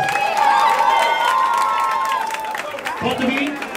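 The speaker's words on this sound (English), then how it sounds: "I give Brooklyn a round of applause." Audience clapping and cheering at a youth playhouse show, a mixed burst of applause and shouts carrying on under a loud voice that speaks over it.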